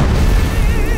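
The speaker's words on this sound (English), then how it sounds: "Let's end it with an explosion." A loud, deep rumbling blast filling the whole second, with a warbling high tone wavering through the roar.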